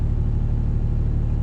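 Thunder rolling through during rain while out alligator hunting in Nassau, Florida, a loud, steady, deep rumble that holds without a break and has no voices over it.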